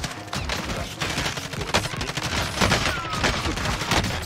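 Call of Duty: Warzone gunfire rattles in dense, rapid automatic bursts that run almost continuously for a few seconds, loud and close, with no talk over it.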